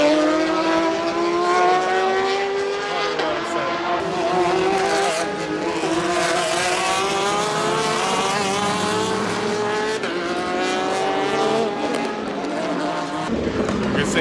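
Race cars roar past on the Le Mans circuit, loud engine notes rising and sweeping by one after another against a continuous trackside din, with a voice speaking over them.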